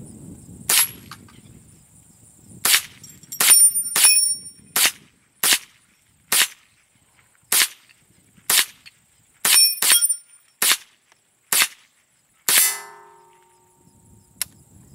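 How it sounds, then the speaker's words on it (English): About a dozen sharp, loud .22 rifle shots from a Remington Nylon 66, fired one at a time at irregular intervals outdoors, each crack ringing briefly, with quiet gaps between them. "So shoot a few more times."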